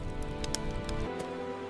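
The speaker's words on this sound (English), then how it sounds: "Rain came" Rain falls steadily in a dense, even hiss of drops with occasional sharper patters on a surface, continuous and moderately loud.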